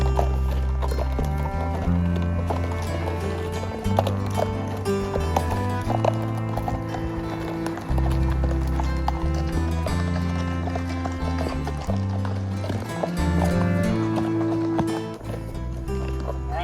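Steady, close clip-clop of horse hooves at a walk on a trail ride in South Dakota's Black Hills, continuing throughout with faint snorting and rustling, no talking.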